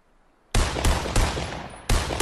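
Assault rifle fire in a shooter video game: a quiet lead-in gives way to loud, dense automatic bursts with rapid repeated cracks, a brief gap near the end, then another burst.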